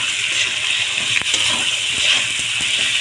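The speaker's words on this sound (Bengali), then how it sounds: "কষাতে একটু জল দিয়ে দিয়েছি, যাতে মশলাটা তলা থেকে ধরে না যায়।" Water poured into a pan of spice paste made with turmeric, Kashmiri chili powder and salt, giving a steady rushing gush with a few faint clinks, continuous and close.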